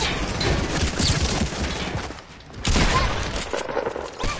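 Dense, continuous gunfire from a PS4 video game rattles in rapid bursts with a brief dip midway, loud and chaotic throughout.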